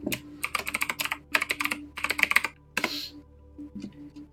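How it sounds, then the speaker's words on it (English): Quick bursts of keystrokes on a computer keyboard as a username is typed for a Subnautica multiplayer mod, several rapid clusters of clicky taps with short pauses between, close and clear, no talking. "when you click local, pick a username"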